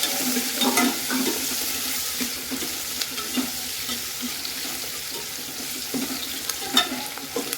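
Curry leaves, onion and cut potatoes crackle and sizzle in a pan, a steady bright frying hiss punctuated by scraping stirs and small clinks, close and continuous with no talk.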